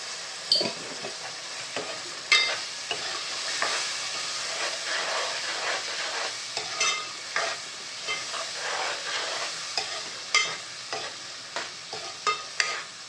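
Prawn curry masala being stirred in a pan as it cooks, with a steady sizzling hiss broken by repeated scraping strokes of the spoon, close and fairly quiet.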